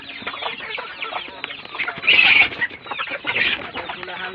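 Two hens cluck under a chicken coop, with soft repeated clucks and short squawks nearby, one louder burst in the middle, and a faint voice in the background.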